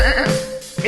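A single short goat bleat, lasting under a second, is heard on its own as part of a children's animal song.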